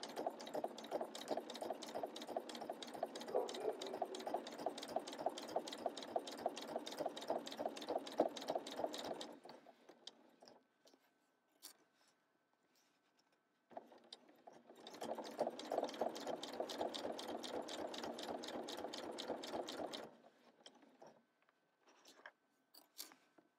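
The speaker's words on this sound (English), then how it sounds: "And then I'm just going to start stitching so that I'm right in this little ditch right along here." A sewing machine runs in two long bursts of rapid, even stitching while sewing a zipper pocket for a quilting project, with a quiet pause and faint handling clicks between runs.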